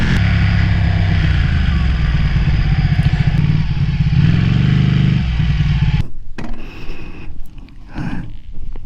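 A 2012 Ducati Panigale 1199S motorcycle rides through curves, its engine droning loud and close with a steady pitch that swells midway, then gives way to rushing wind and rougher engine noise.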